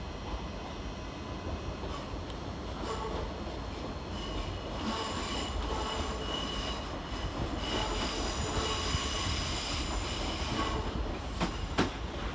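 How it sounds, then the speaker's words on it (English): A Southern Railway class 377 electric multiple unit departs from the far platform at Brighton station, a steady rolling hum with wheel squeal and light rail clatter at moderate distance, no voices. "Over on the far side departed is 377-319, working the 1651 Southern Railway service to Littlehampton."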